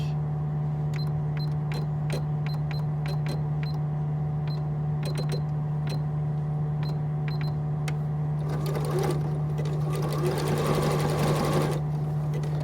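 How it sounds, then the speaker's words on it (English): A sewing machine runs a zigzag stitch very close to the edge of fabric for a kimono wrap, giving a steady, close mechanical whir with a regular rapid needle rhythm throughout and no talking. "So I'm just going to turn my machine up to a little bit of a zigzag stitch. And I'm just going to stitch very, very close to the edge."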